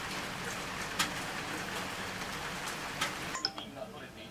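Steady rain falls outside a seaside fishing inn at a hot spring, a dense even hiss with a few sharper drip taps, continuous and fairly close, fading slightly near the end.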